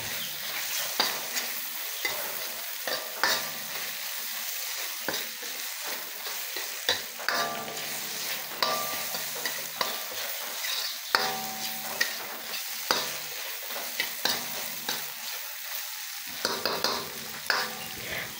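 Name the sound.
sautéing peeled sliced shrimp in a pan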